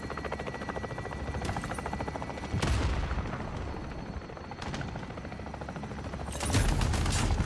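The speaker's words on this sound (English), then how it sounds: "And I get killed by a goddamn chopper gunner" Video game chopper gunner helicopter fire: a steady rotor-like drone with dense rapid gunfire bursts, louder surges around the middle and end, no talk.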